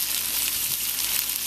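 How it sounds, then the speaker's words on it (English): Jambalaya being stirred in a Dutch oven, with a steady broadband hiss of sizzling and bubbling liquid throughout, fairly close and even in level, with no voices. "I'm just stirring this up for a little bit."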